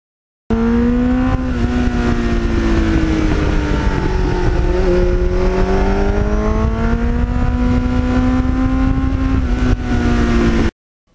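A 1989 Kawasaki GPX750R motorcycle fitted with a Muzzy muffler exhaust runs loud and close, holding a steady droning engine note that rises and dips gently in pitch for about ten seconds before cutting off abruptly.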